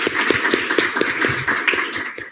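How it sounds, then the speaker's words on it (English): Brief applause at a student government senate meeting: a short burst of hand claps, fairly close and loud, lasting a couple of seconds with no talk over it. "a round of applause for the Women's Business Showcase"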